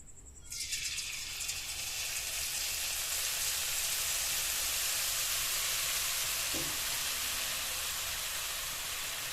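Chanachur batter pressed through a perforated ladle into hot oil bursts into a loud, continuous bubbling sizzle that starts abruptly and holds steady, with no talking.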